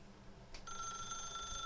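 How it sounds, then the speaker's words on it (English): A telephone in The Stanley Parable video game rings with a steady, bright electronic bell tone that starts partway through and continues to the end, alone and fairly loud after a short soft lead-in. "I think we'll just keep on ringing."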